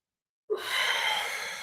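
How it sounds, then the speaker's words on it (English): After a brief silence, a single long, breathy exhale begins abruptly and continues softly to the end, the sound of breathing during a workout stretch. "I'm breathing into it."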